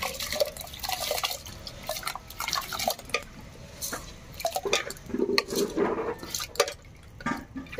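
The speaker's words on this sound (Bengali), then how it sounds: "আর এদিকে কিন্তু আমি চালটা ধুয়ে রেখেছিলাম, এবার দিয়ে দেব।" Washed rice is tipped into a pot of water on a clay stove, giving a run of irregular wet drips, splashes and pattering, with a few louder splashy bursts partway through and no talking.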